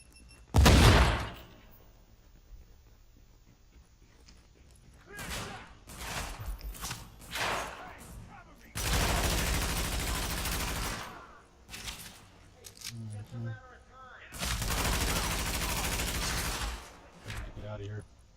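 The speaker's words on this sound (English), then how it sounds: "I shoot the jamming device." Bursts of automatic gunfire in the video game Tom Clancy's The Division, with loud volleys separated by quieter gaps, including two long sustained streams and several short sharp shots.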